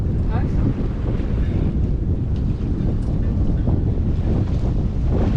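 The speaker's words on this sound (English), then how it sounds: "the wind is picking up a little bit" Steady, loud wind roars across the microphone of a sailboat in an unbroken rush, with a low rumble and faint splashing of water underneath, on the harbor at Mount Desert Island, Maine.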